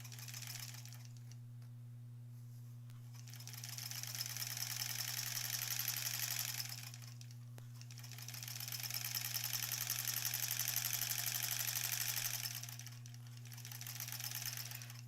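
A sewing machine stitches granny square quilt pieces together, running in a few steady bursts of several seconds each with short pauses between, close by and continuous over a constant low mains hum.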